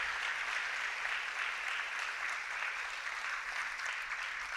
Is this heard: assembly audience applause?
yes